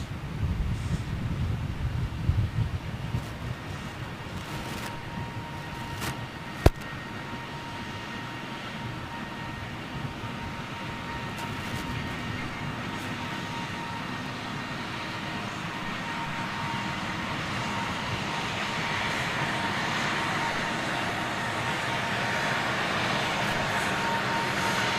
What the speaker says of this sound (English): CF6 powered 330 of Virgin